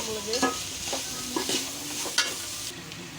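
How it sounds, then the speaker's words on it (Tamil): Vegetables for chicken pasta sauté in a hot pan, with a continuous sizzle broken by several sharp scraping strokes of a spatula spaced about half a second apart. "இப்போ இது வேகிற வரையும் கொஞ்சம் நல்லா வதக்கிக்கலாம்."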